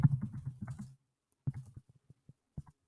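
Quick bursts of typing on a computer keyboard, a close run of rapid key clicks followed by scattered single taps after a short pause.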